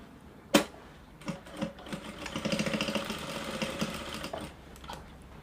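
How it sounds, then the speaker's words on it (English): Sewing machine top stitching a bustier dress with raglan-style yokes: a sharp tap, then a steady mechanical stitching run of a few seconds that stops near the end, close and moderately loud, with no talk. "So I'll top stitch here."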